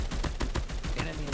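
Shotgun fire in a video game, rapid repeated sharp blasts crowding close together in a dense volley over a little more than a second.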